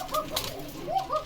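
Lakha pigeons coo at a pigeon farm in Bogura in short, warbling, tonal phrases that rise and fall over a low background murmur.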